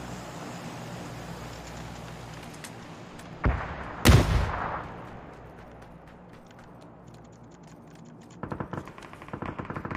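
Gunfire from a window in a video game, heard as a sharp shot near 3.5 s and a louder, heavier blast near 4 s over a steady ambient rumble, then a rapid cluster of quicker reports near the end.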